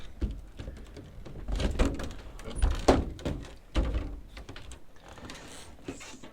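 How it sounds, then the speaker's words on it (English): Someone works open a stiff, awkward door on a sleeping pod at a rainforest ecolodge in Colombia, producing a close series of thuds, knocks and rattles with scraping between them. "Awkward door."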